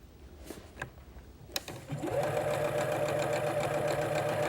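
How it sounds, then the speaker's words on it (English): Sewing machine starting after a few soft taps and clicks, then running in a fast, steady close-up whir as it straight stitches over piping. "we'll straight stitch right over the previous stitching of the piping"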